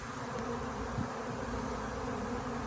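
A swarm of honey bees being captured by a beekeeper gives off a dense, steady buzzing hum, close and continuous with no voices.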